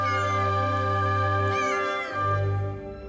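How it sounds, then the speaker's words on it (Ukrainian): A cat meows plaintively in two long, drawn-out, close cries with a short pause between them, heard alone and clearly. "жалібно нявчала вона"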